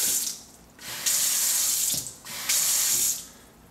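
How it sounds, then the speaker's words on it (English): A sink faucet runs in bursts as the hot and cold taps are tested during a home inspection, steady close water flow switching on and off twice with short pauses between, no talk. "First, let us check the functionality of the faucets."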